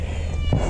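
A cat gives a single short meow close by, outdoors near chickens, brief and fairly loud with faint background noise.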